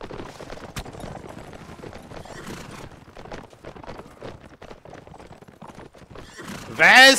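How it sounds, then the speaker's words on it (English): Horse neighing and hooves clip-clopping in a medieval fantasy video game, heard under a man's ongoing speech, with a louder burst of the neigh near the end. "There's the horse!"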